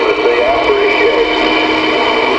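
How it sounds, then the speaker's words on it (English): CB radio on a Hustler IC-100 antenna scanning received channel traffic during open band conditions, a steady wash of loud hiss and static with garbled distant voices bleeding through. "let's just go through the channels and see how the receive sounds on this thing."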